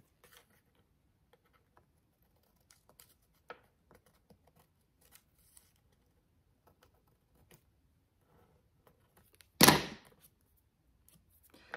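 Scissors cutting paper for a vintage junk journal collage: a single sharp, close snip stands out after a long quiet stretch of faint small taps and handling sounds, with no talking.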